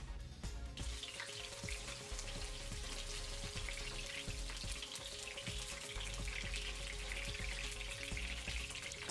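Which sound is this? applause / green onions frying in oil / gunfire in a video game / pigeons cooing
green onions frying in oil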